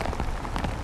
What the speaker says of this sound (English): And at that moment, the skies began pouring rain.